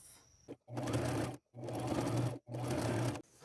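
Sewing machine stitching thrifted men's neckties onto a jean jacket, running in three steady bursts separated by short pauses, loud and close with a rhythmic mechanical hum.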